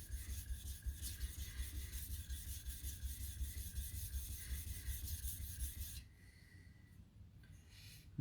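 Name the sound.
grinding knife bevel on sharpening stone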